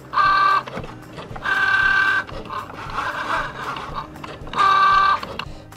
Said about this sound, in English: The pen will go through and write everything that you typed into Design Space.